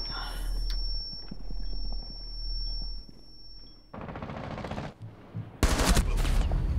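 Automatic weapons fire in Rainbow Six Siege: loud rattling bursts break out after a quieter stretch of ambient game noise, followed by a second, sharper and louder volley.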